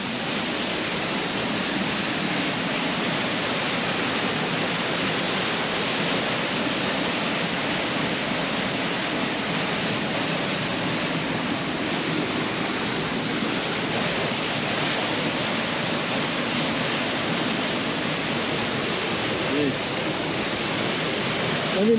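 A massive waterfall on the Bond Lake creek trail gives off a steady, even roar of falling water. The wash of noise is continuous and unchanging, with no clear pauses or other sounds.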